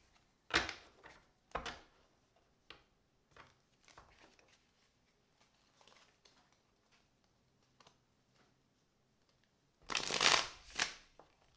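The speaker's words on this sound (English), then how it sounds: "That was an embarrassing shuffle." A deck of tarot cards being shuffled by hand, quiet riffles and flicks scattered in short bursts, ending in a louder, denser flurry of cards near the end, close with no talking.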